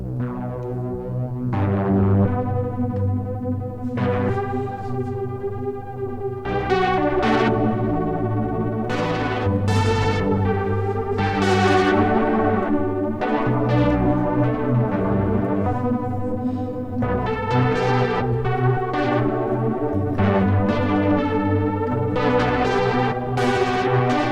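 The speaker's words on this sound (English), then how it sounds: "let's change the octave on the first oscillator, second I mean" A distorted, buzzy Sequential Take 5 synthesizer with its second oscillator shifted up an octave plays a run of notes with heavy chorus and echo, bright harmonics shifting in pitch, loud and continuous.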